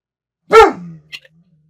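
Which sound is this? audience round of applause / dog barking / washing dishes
dog barking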